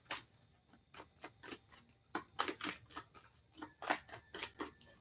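Tarot cards being shuffled close up, giving a quick run of crisp papery riffles and snaps in uneven bursts, alone with no talk.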